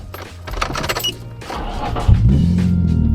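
A Nissan 350Z fitted with wide fenders pulls away on a test drive. Some light clatter and handling noise comes first, then the engine note swells into a steady, close, rising drone.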